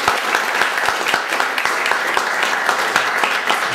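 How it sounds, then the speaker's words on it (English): A crowd applauds after a dance performance at a Malaysian cultural evening, loud, dense clapping that holds steady and close throughout the few seconds with no speech. "round of applause because I think they worked hard for the dance"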